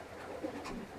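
A marathon racing pigeon in a breeder's loft gives a few soft, low coos. The calls are fairly close and sit over quiet background hiss.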